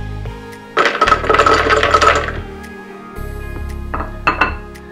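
Almonds poured into a blender jar rattle and clatter in a dense burst, followed by a shorter second pour with a few sharp clinks against the container, close and fairly loud.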